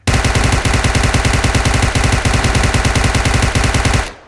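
Sustained rapid automatic fire from a UMP9 in PUBG Mobile, a loud, close, unbroken stream of shots at a steady fast rhythm lasting about four seconds before cutting off.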